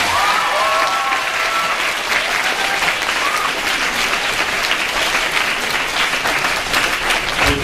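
Sustained applause from a church congregation, steady and dense throughout, with a few voices faintly audible in the background.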